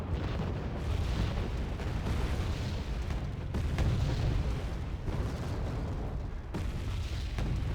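Continuous artillery fire in the video game Wargame Red Dragon, with dense overlapping booms and blasts rolling loudly throughout and no clear gaps between impacts.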